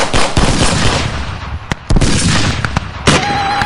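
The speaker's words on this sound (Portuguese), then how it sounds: "Um tiroteio sistemático determinado por Tex Wheeler, a fim de não haver perda excessiva de munição, é iniciado pelos homens do acampamento." Gunfire from the camp's men in a systematic volley: a loud, rapid series of sharp shots and cracks, closely spaced and overlapping, with brief gaps between bursts.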